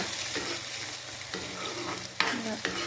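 Boiled tomatoes fry in a pan for sweet-sour tomato chutney, a soft, close sizzle broken by a few sharp scraping stirs of the spoon against the pan.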